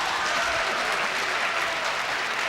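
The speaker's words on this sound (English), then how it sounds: "Well, yells of applause there for Penelope Lively." Dense, sustained applause from a large hall audience at the 1987 Booker Prize for Fiction ceremony, greeting winner Penelope Lively, steady and full throughout with no speech.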